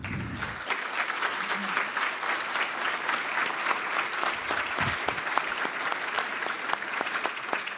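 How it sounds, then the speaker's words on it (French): Conference audience applauding warmly at a study-day panel session, dense sustained clapping from a large crowd that fills the room throughout, steady and fairly even without pause. "Je vous demanderai de les applaudir chaleureusement."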